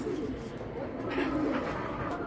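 Male pigeon at a bird market cooing in a short, low, throaty burst, close and moderately loud against a background of market noise.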